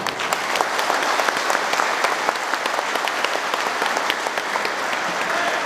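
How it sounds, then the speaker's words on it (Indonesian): Steady, dense applause from an audience at a Partai Umat political gathering honouring Anies Baswedan, a loud, continuous wash of many hands clapping with no talk over it. "Sekali lagi beri aplaus"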